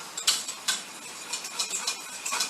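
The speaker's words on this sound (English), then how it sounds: "I'm going to stop and stir." Spoon scraping and clinking in a pan while stirring a smooth mixture to keep lumps out, a series of light, close metallic taps and scrapes at an irregular pace, alone without talk.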